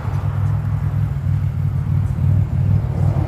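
2000 Buick Regal GS idling close by, a steady low, throbbing engine rumble with a gentle pulsing rhythm, fairly loud and alone.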